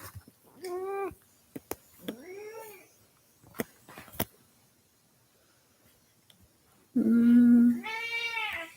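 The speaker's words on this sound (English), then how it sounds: "It's my cat you're hearing." A house cat meows repeatedly indoors, several separate drawn-out calls spaced across the stretch with a few sharp knocks between, ending on a louder, longer meow; no talking.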